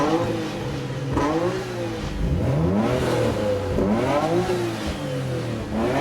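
A Nissan Skyline engine revs repeatedly up and down, loud and close, with rising and falling pitch sweeps and no talking.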